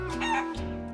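A rooster gives one short crow over a brief cluck, close and clear, lasting about a second.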